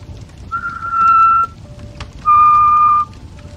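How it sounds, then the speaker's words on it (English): A person whistles two long, steady notes, the second a little lower than the first, with a short pause between them and quiet background. "He's always whistling it."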